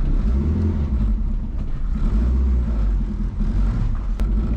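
A triple-turbo Honda Civic runs and drives with a loud, continuous low engine rumble and whir, rough and steady throughout, heard from inside with no voices.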